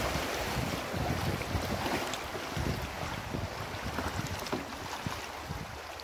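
River water rushing steadily around a raft on a rafting trip in Jamaica, a continuous broadband wash with wind buffeting the microphone and no talk.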